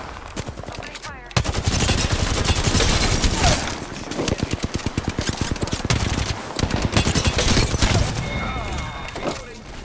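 Automatic gunfire in the Apex Legends battle royale game: rapid, loud bursts of rounds rattle in long strings with brief pauses, with sharp impacts and shattering between them.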